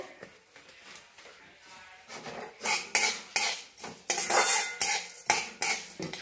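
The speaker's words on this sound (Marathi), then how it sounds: "थोडस तेल वतलंय आता, आणि दालचिनी भाजून घेऊया। भाजल्या, काढून घेऊया। लवंग भाजून घेऊया।" Cloves dry-roasting in a little oil in a pan for homemade red chilli masala powder, with repeated loud scraping and clinking of a utensil against the pan in an uneven rhythm, alone and close.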